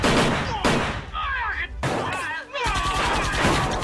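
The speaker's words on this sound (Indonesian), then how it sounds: "Baku tembak pun terjadi di tempat tersebut." Film gunfight gunfire: loud, sharp shots and bursts break out repeatedly, with abrupt heavy blasts at the start, near the midpoint and again later, layered with crashing effects and some voice-like sounds between them.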